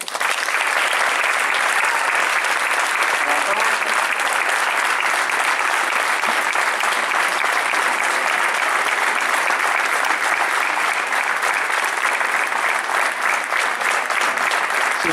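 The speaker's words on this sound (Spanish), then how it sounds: "Quiero, por favor, que le den a ustedes un aplauso a mis músicos de Escañuela" Sustained, dense applause from a concert audience for the musicians at an Escañuela performance, loud and even throughout with no breaks, filling the hall.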